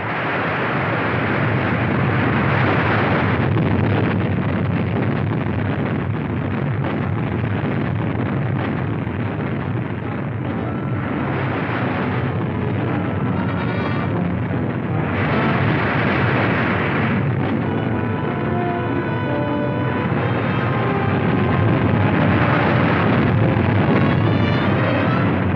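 The 1944 eruption of Mount Vesuvius in Italy rumbles as a continuous, loud, band-limited roar from an old 16mm newsreel soundtrack, surging and easing in waves for the whole stretch with no voice.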